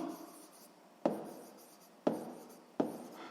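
Chalk or pen writes numbers during a sixth-grade math lesson, three sharp taps each followed by a short scratching stroke, quiet and close, without speech.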